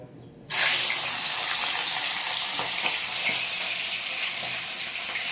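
Fish pieces hit hot oil in a pan, setting off a sudden loud burst of sizzling that holds as a dense, hissing fry and eases only slightly, with no voices.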